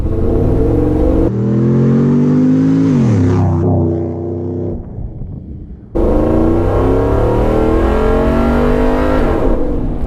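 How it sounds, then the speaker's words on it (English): Restored and modified Ford Bronco with a rowdy Borla exhaust revving hard, loud and close, pitch sweeping up then falling off, a short lull, then a sharp return to full revs. "Specifically, we do offer a rowdy or restrained exhaust, and this is definitely the rowdy."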